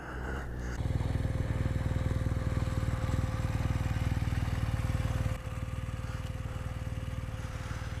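A BMW motorcycle engine rumbles steadily nearby, a continuous low throbbing that drops and shifts partway through as the bike moves past, with no talking over it.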